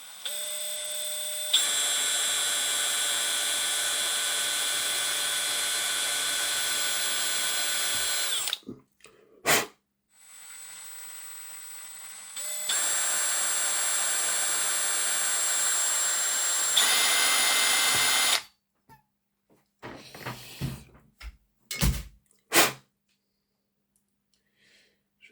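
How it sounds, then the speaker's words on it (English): Small power drill boring through a little circuit board during a model locomotive repair, two long steady high whines lasting several seconds each, separated by brief stops, then a few short bursts and clicks. "drilling through a little PCB"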